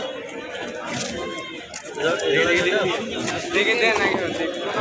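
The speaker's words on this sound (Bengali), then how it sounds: "কিছু গিরিবাস কবুতর আছে এখানে" Giribaz pigeons at a busy open-air livestock market in Natore, with cooing and fluttering bird sounds mixed into constant crowd chatter and nearby voices.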